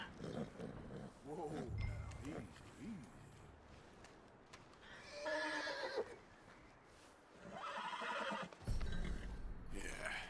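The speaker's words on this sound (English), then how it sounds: "Let's calm the horse." A horse whinnies and snorts several times in the video game Red Dead Redemption 2, with hooves and background noise between the calls; a voice speaks briefly.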